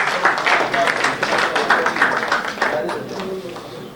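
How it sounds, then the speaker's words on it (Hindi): Steady applause from an audience at a mushaira poetry gathering in a mayor's hall, dense overlapping claps rolling on for several seconds and tapering slightly at the end. "जोरदार तालियां बजा के इस्तकबाल करेंगे"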